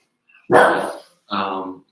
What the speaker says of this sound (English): Yes, Dylan's dog